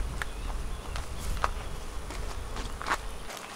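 Honey bees buzzing around a small nucleus hive, a faint steady drone broken by a few brief sharp ticks and knocks.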